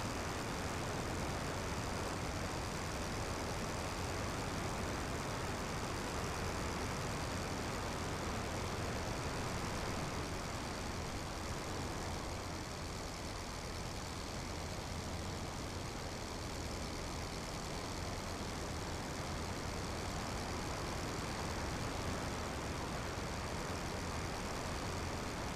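Sopwith Camel biplane engine droning steadily through a Rise of Flight flight sim, a loud, constant rotary roar with propeller buzz holding unbroken and close the whole way.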